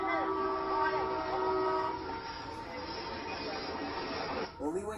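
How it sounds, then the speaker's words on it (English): A loud horn from an approaching train blares with bending, wavering tones for about two seconds, then rushing rail noise continues, with a brief squeal near the end. "another train fast approaches. It lays on the horn"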